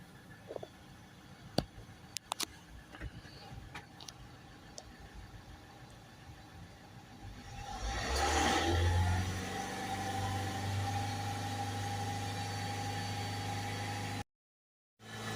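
Ford Transit Custom RS Sport 2.2 diesel van with glow plug and DPF fault codes: near silence at first, then the engine cranks and catches midway and settles into a steady, loud diesel idle with slightly raised revs.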